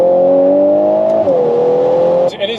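A Volkswagen Golf R in drift mode revs loudly close by, a strong rising engine tone that dips briefly, then cuts off sharply near the end.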